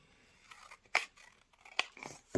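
Scissors cut paper in a few quiet, crisp snips spaced unevenly over a couple of seconds, close to the listener in an otherwise hushed room.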